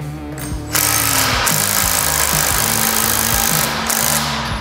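Wrench and socket tightening the nut on a Boat2Trailer long-handle boat latch, a loud continuous mechanical rattle and whir with rhythmic clicking pulses running steadily throughout, close up and without talk.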